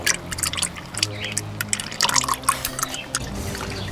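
Gearbox oil from a VW Polo 9N3 GTI draining into a bucket: a close, continuous liquid trickle with splashy drips, steady and fairly loud across the few seconds.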